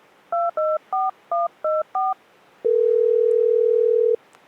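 Six crisp telephone keypad tones beep in quick succession while placing a call to product support, then a steady tone holds for about a second and a half before cutting off.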